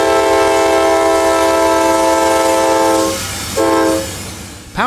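Loud, close horn of a GE AC4400CW freight locomotive from the late 1990s, a sustained chord-like blast that cuts off briefly near the end and then resumes, with rumbling train noise underneath.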